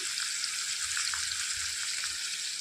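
Hilsa fish head frying in hot oil gives a steady, dense sizzle with faint crackles throughout, close and continuous with no one speaking.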